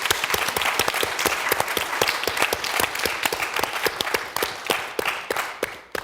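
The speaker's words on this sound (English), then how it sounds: "Please join me in giving them a round of applause for the film." An audience at a documentary premiere applauds the filmmakers after the screening, a dense and steady round of clapping from many hands that tapers off slightly toward the end.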